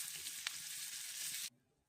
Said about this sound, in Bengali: এবারে একটা তেজপাতা আর জিরে ফোড়ন দেবো।